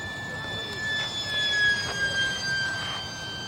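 A radio-controlled model airplane engine drones high and distant in flight over a flying field, a thin whine that rises and falls as the plane passes.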